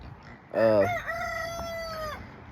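A rooster crows once, loud and close, a long drawn-out call that rises and then holds steady before trailing off.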